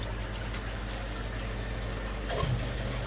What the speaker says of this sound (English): let the water pump to the main pond